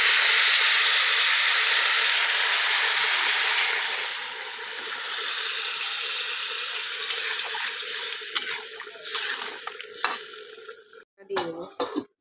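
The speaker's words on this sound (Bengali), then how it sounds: "এবারে জল দিয়ে দেবো।" Water is poured into a pan of tilapia curry, setting off a loud, steady rush and hiss of sizzling that slowly dies down, with a few clinks and scrapes near the end.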